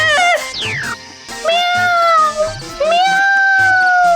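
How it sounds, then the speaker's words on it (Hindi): Cats at a fish market meow loudly and close by, several drawn-out, rising and falling meows following one another in quick succession. "खुशबू सूंघते ही बिल्लियां आ गई है यहाँ पर"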